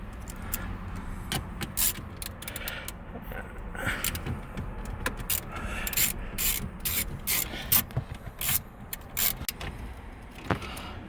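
Screws are driven in during an ignition key cylinder repair on a 2004 Oldsmobile Alero, with irregular close clicks, ratcheting ticks and metallic taps over a faint background hum.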